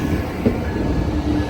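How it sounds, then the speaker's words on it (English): An Amtrak Coast Starlight passenger train pulls into Emeryville station, a steady close rumble of rolling rail cars with faint wheel squeal and clatter, no voices. "train number 14, now pulling in at the Emeryville station"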